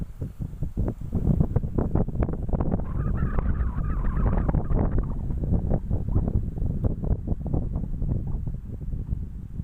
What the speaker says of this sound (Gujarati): બહુ પવન છે પવન ઉડ્યો છે